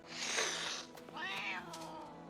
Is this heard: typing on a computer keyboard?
no